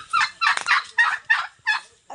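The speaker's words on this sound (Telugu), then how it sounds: "టర్కీ." A turkey in a village yard gobbles in about five quick, rhythmic bursts, close and fairly loud with short pauses between calls and no talking.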